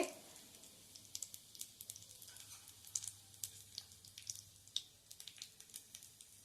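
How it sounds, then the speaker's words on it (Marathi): Cumin seeds and a halved green chili fry in a little hot oil, a faint, close crackle of scattered pops and spits over a soft steady sizzle. "मिरची जरा तळली गेली की गॅस बंद करणार आहे"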